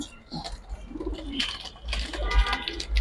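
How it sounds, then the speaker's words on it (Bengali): A Giribaz pigeon coos in rising and falling warbles, nearby, with scattered rustling and a few indistinct voices around it. "এটা খরামেলা কবুতর"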